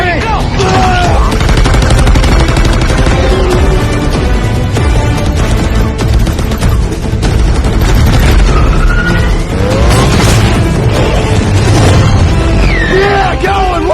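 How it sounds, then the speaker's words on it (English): Alien guns fire during a loud car chase in the film Transformers: Age of Extinction. Dense blasts and rapid shots mix with whining, sweeping sci-fi tones and a siren-like wail, all at full, steady volume for the whole stretch. "These alien guns kick ass."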